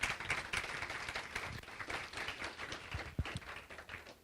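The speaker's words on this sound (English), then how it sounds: "Let's give her a big round of applause." Audience applause at a community medical department event, faint and distant scattered clapping that continues steadily throughout.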